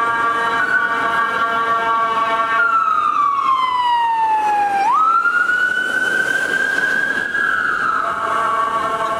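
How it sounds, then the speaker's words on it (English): An ambulance siren wails past in Paragon Square, Hull, loud and close, its pitch sliding down as it nears and then jumping back up and holding as it moves away, with street noise beneath. "I'll just wait for the ambulance to go past."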